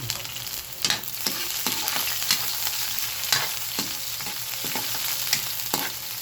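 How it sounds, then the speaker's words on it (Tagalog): Ground meat sautés with garlic and onion in a hot pan, giving a continuous close sizzle punctuated by regular scraping strokes of a spatula, with no talking. "Igisa po natin sa bawang sibuyas ang giniling."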